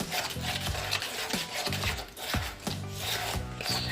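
Cement mortar mixed with white glue is stirred briskly in a container, giving steady repeated scraping and rubbing strokes in a quick even rhythm, close up and alone.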